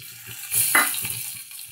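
Ground poppy seed paste dropped into hot oil with chopped green chillies in a frying pan, bursting into a bright close sizzle that hisses on and then fades; no one speaks.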